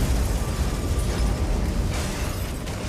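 Gunfire and explosions in a film ambush on a convoy in an isolated area: a dense, loud, continuous roar of booms and bursts with crackling blasts layered throughout, no voices audible.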